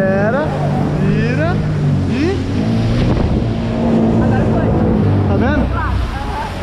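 A jet ski engine revs and accelerates on open water with a steady roar, loud and close with wind buffeting, while people talk over it throughout.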